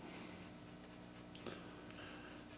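A 2B graphite pencil drawing on white paper gives a continuous soft, scratchy rasp of close, steady strokes, with one brief sharper scrape partway through and no talking.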